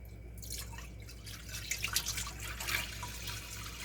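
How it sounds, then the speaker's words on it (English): A gallon of pasteurized whole milk is poured into a pot, a soft liquid splashing and trickling that builds in the middle and continues steadily, quiet and close, with no talking. "I'm going to pour this whole entire gallon"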